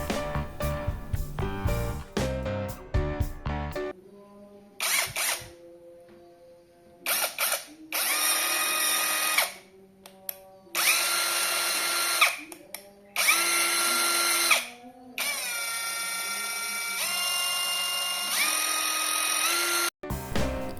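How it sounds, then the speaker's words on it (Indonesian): A Dagmara DTD173 brushless cordless impact driver whirs in repeated bursts of a few seconds each, stopping and starting with sharp clicks, loud and close, with no voices. "kita coba akan hidupkan bagaimana putaran daripada bor impact driver dari Dakmara ini"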